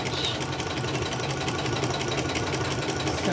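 A sewing machine running a basting stitch around the edge of a crumb crazy quilt block, a steady close rapid chatter of the needle with no pause over a few seconds.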